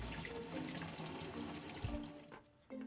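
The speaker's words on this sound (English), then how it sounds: "you can place it under warm water to bend it as you want" Steady broadband rush of warm water running from a tap, continuous and close, briefly dipping near the end before resuming.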